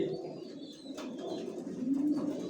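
Young racing pigeons of the Johnson line, squabs raised in a home loft, give a low, steady cooing murmur that swells slightly toward the end, soft and close with no talk.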